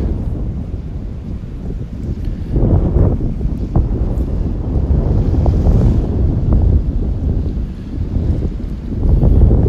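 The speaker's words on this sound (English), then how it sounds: "It's going to be super noisy with the wind." Strong wind buffets the microphone on a morning beach walk in North Naples, Florida, a steady loud roar with surf washing faintly underneath and no pauses.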